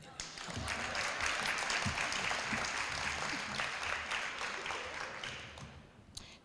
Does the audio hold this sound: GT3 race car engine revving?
no